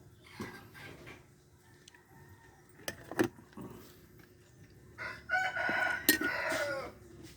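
A rooster crows outdoors at moderate distance, its drawn-out call rising near the end, alongside scattered clinks and faint background rumble, with no talk over it.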